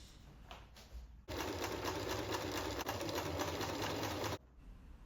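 A sewing machine stitches large blue and diagonal white fabric pieces of an early 1606 British flag together, one steady loud run of about three seconds between quiet pauses.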